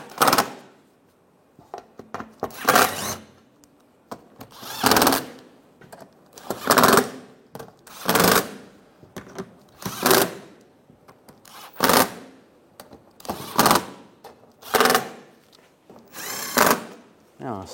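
A power tool tightening bolts on a car suspension, about ten short whirring bursts in a regular rhythm separated by near-silent gaps, close and fairly loud.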